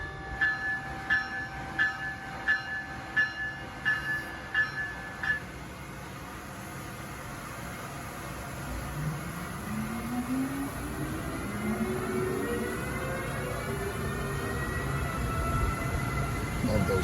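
Amtrak trains passing through Princeton Junction station, a horn sounding in rapid repeated blasts before a long rising rumble of rail cars rolling past at close range, growing louder to the end.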